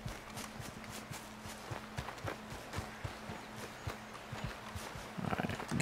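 Horse hooves in the Red Dead Redemption 2 game clip-clop in a steady, evenly paced rhythm, moderately loud and close throughout, under a low tonal background, with a brief louder swell of sound at the end.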